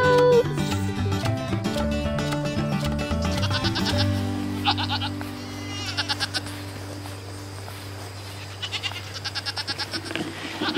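Goats bleat on a home farm. Several wavering, nasal calls come close and loud at the start, followed by shorter, fainter bleats and some background sounds, with no voices.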